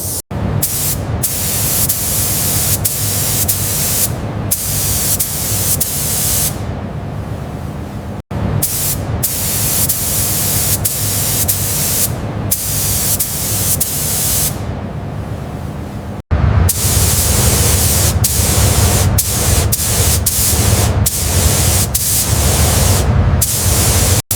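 Spray gun applying paint to a Mercedes-Benz car body during restoration, loud continuous hissing bursts lasting several seconds each, separated by short breaks and sharp cut-offs.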